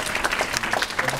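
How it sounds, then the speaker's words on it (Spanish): Audience applause at a TEDxSantiago talk, a short burst of dense clapping from the crowd. "Un aplauso nuevo para ella."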